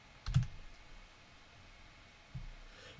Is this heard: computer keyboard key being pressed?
yes